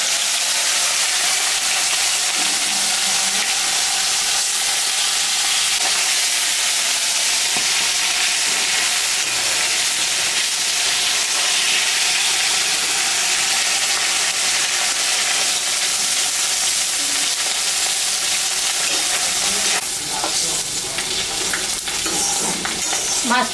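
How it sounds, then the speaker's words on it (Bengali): Stinging catfish (shingi), salted and rubbed with turmeric, fries in hot oil with a loud, steady sizzle that fills the whole stretch and holds without a break. No one speaks over it. "তেল গরম হয়ে গেছে। এখন আমি মাছটা ছাড়বো।"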